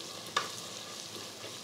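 Onions with chili powder frying in a pan, a soft steady sizzle with a single brief stirring scrape near the start, close and fairly quiet.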